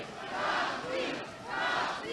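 A large funeral procession crowd of thousands shouts in unison, rising and falling in two loud waves of chanting voices.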